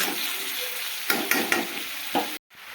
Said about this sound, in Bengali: লবণটা দিয়ে আমি এভাবে একবার নাড়াচাড়া করে নেব